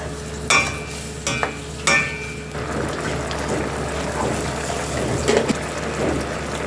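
A spoon scrapes and clinks in a pan of eggplant curry with coconut milk, a few sharp knocks at first, then soft bubbling and simmering with intermittent stirring, close by.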